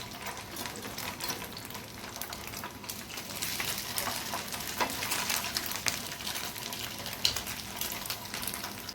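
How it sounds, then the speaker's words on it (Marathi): Pieces of leftover-rice snack shallow frying on a hot tawa, giving a steady close crackle and sizzle with brief louder pops, heard alone without talk. "आता आपलं चांगलं तवा तापलेला आहे त्यावर आपण आता एक एक तुकडा शालो फ्राय करून घेऊ"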